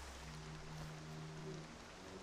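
Rain in the video game Horizon Zero Dawn, a dense, even hiss of falling rain that stays steady throughout, with a faint low tonal drone underneath and no talking.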